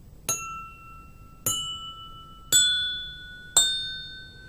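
Four drinking glasses holding different water levels are tapped gently one after another, each giving a clear ringing ding that slowly fades, evenly spaced about a second apart, with no talking.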